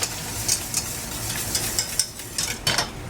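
Macaroni and cheese stirred in a pot, a spoon scraping and clinking through the thick pasta in rhythmic strokes over a steady low background hum.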